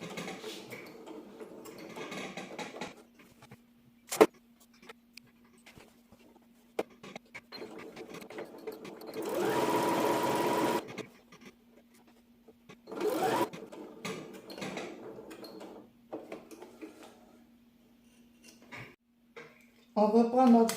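A sewing machine works on a wax-print blouse, running in short bursts with a longer stretch of rapid stitching and a quick backstitch, close against quiet room tone and a faint steady hum.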